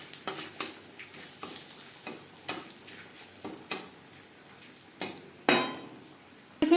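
Five-spice tempering and bay leaf sizzling in oil for a vegetable moong dal khichuri, with a soft crackle under a series of distinct stirring scrapes and knocks of a spoon on the pan, close and intermittent.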